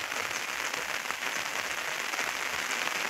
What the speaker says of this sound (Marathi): पाऊस आला आहे आता इथे थोडासा।